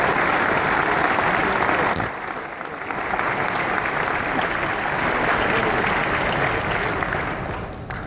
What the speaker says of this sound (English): let's give a loud round of applause to Dr. Bobby Gempesaw